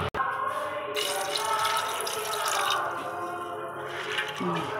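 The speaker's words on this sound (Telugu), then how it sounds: "కుక్కర్లో వేసి వాటర్ పోసుకోవాలి." Water pours into a pressure cooker of soaked chickpeas, a steady splashing stream close by running almost without break, with a faint voice underneath.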